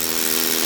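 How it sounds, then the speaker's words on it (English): Power drill boring into loose rock, a brief, loud, steady motor whine with harsh gritty grinding, heard close and alone. "This is a very, very good drill."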